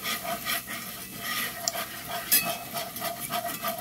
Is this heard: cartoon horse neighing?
no